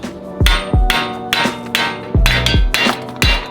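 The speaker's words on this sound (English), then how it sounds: "Now I'm gonna go ahead and pound this axle out with the spindle itself" A car axle pounded out of its hub with the spindle on a Mazdaspeed3: loud, close metallic hammer blows in an uneven rhythm, about eight strikes in under four seconds, each ringing briefly.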